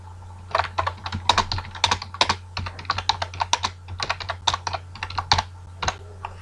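Computer keyboard typing a single-line Python comment, a quick irregular run of close, crisp keystrokes with short pauses, steady hum underneath and no talking.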